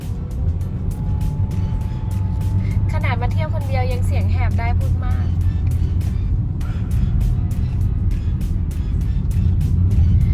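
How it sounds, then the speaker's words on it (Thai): A car coasts downhill in low gear with no brake or accelerator, a steady low engine drone and road rumble, no revving, while someone talks over it throughout. "อันนี้น้องใส่เกียร์ต่ำนะน้องไม่ได้เหยียบเบรกไม่ได้เหยียบคันเร่งเลยค่ะ"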